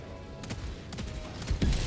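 Gunfire in the Helldivers 2 shooter during a fight with Automaton enemies comes as several sharp bursts spread over a couple of seconds, ending in a heavier low impact, with no talking.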